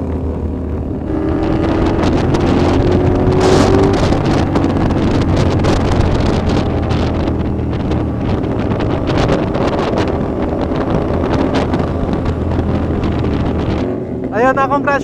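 A CFMoto 450SR motorcycle rides at night, its engine drone buried under loud, constant wind rush across the microphone, steady throughout with a brief change near the end.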